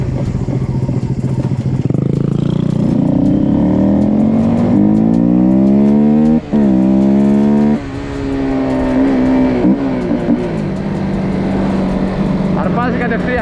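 A Honda GTR 150 motorcycle engine revs hard on the throttle, pitch climbing and falling in repeated loud sweeps close by, with a steady idle rumble between the revs.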